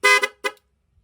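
Nhay 3+ Pro musical motorcycle horn sounding a loud, bright close tone in three quick bursts, two joined blasts then a short third, followed by silence.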